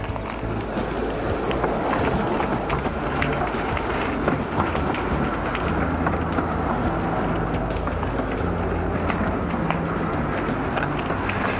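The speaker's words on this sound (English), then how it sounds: "and here comes a little train." A small narrow-gauge train runs along the line from Wroxham towards Aylsham past a halt at Coltishall in Norfolk, a continuous rumble and rhythmic clatter of wheels on rails, fairly close and steady throughout.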